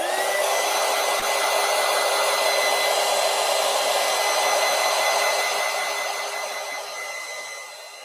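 A hair dryer blowing to dry wet stamp ink on a desk journal page, a loud steady whirring drone that runs close and constant before easing slightly at the end, with no talking.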